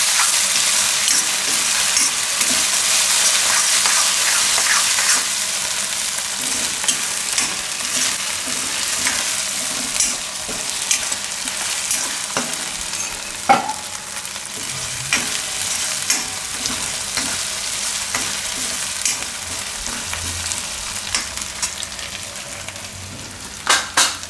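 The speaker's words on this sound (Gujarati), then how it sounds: "એને તેલમાં થોડીક વાર પાકવા દેવું." Cumin frying in hot oil along with garlic, ginger and chillies, giving a steady, loud, close sizzle with occasional stirring clinks and pops throughout.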